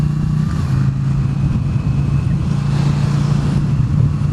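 A vehicle engine fitted with an RC Components exhaust runs with a loud, close, steady low drone and a slightly rough pulsing texture, holding an even note throughout.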